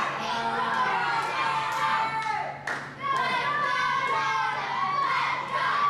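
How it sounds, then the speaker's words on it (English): A crowd at a live independent pro wrestling show cheers and shouts loudly and continuously during a match. The noisy roar dips briefly partway through, then swells again. "Listen to the crowd cheering Jordan on."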